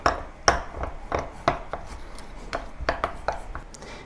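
Salty fermented black beans being mashed in a bowl with a utensil, about a dozen close, dull knocking taps at a loose, steady rhythm.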